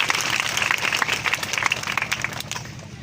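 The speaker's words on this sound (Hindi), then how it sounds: "जोरदार ताली बजा के इन लोगों का स्वागत करिए" A crowd at a Suheldev Bharatiya Samaj Party rally in Kushinagar applauds loudly to welcome arriving guests; steady, dense clapping from many hands, close and sustained, thinning slightly just before the end.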